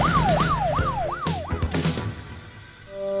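A Roblox police engine siren wails in quick rising and falling sweeps, loud and close, then gives way to a steadier tone as the wail ends.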